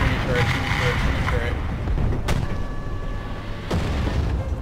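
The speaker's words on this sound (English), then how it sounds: "We need artillery support! The artillery is ready. Roger that. Confirming fire." Artillery barrage in War Thunder during a Tiger I tank fight, heavy booming impacts with two sharp distinct blasts over rumbling low battle noise, game radio voices heard.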